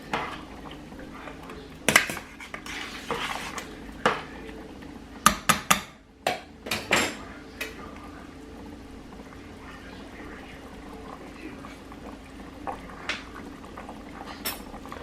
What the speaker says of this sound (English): Give it a stir and then we'll taste it.